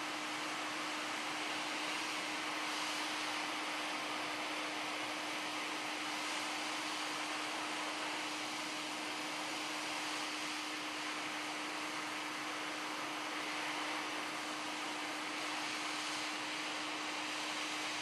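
Hot air rework station blowing onto a PS4 motherboard, a constant breathy rush of air with a steady fan hum, even and unbroken throughout, with no voices.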